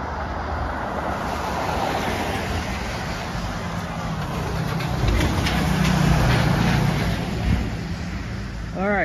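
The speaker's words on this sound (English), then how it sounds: "we have a bus coming" A bus passes along a town street in Methuen, Massachusetts, amid continuous traffic noise. Its rumble swells to a peak partway through and then eases, with faint voices in the background.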